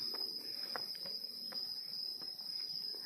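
Cicadas chirp in a constant, high-pitched drone at Wat Tham Sarika temple in Nakhon Nayok, Thailand, faint and steady, with soft scattered ticks of other outdoor sounds beneath.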